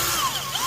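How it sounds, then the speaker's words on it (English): A drill fitted with a buffing attachment whirs briefly while cleaning off silicone, a loud steady high whine with slight pitch wavering. "now we've got a drill with a buff piece on it, and we're just cleaning off the last little bits"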